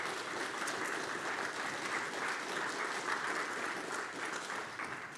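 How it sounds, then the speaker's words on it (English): Audience applause for the Astronomical Society of Edinburgh at a lecture, a full steady round of clapping from a room of listeners, even and unbroken for several seconds. "a round of applause, I think, for the Astronomical Society of Edinburgh"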